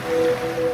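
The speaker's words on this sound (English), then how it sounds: "now you're drifting asleep to the scent and sound of waves." Ocean waves wash in a steady, soft surf roar within a radio advert, a continuous broadband rush with a faint sustained tone running through it and no voices.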